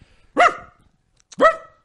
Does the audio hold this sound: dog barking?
yes